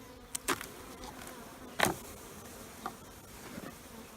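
Honey bees buzz around a hive colony in a faint, steady hum, with a few brief close passes and scattered clicks over a quiet background.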